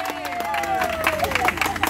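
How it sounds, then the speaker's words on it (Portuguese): A crowd at a live street message-car celebration in Sacomã, São Paulo's south zone, claps and cheers in a steady patter of hands, with voices and a tonal sound running over it. "uma salva de palmas"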